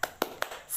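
Three sharp, evenly spaced claps ring out quietly in quick rhythm, a short patterned clapping chant led during an Islamic lesson.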